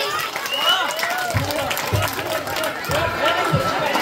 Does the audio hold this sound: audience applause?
yes